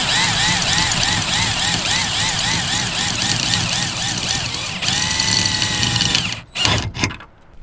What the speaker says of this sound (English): I'm drilling holes in your car.